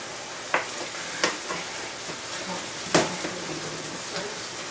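Raisins and cashews fry in a pan for a chickpea pancake with apple chutney, giving a steady soft sizzle broken by a few sharp stirring clicks.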